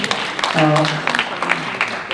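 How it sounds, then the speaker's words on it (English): An audience at a fundraiser claps briefly under continuing talk, with a voice carrying over the scattered applause throughout. "Please give a big round of applause for this momentous"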